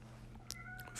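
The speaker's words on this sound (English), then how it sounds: "excuse my cat outside the door crying." A cat cries outside a door with a faint, muffled meow over a steady indoor hum, heard once briefly within a second.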